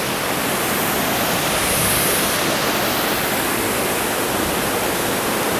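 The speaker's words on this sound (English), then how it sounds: "there's where the water flows down the creek" A steady, full rush of falling water, constant and broadband, like a creek tumbling down a waterfall close by, at Crystal Creek in Kinsmen Park, Sault Ste. Marie, Canada.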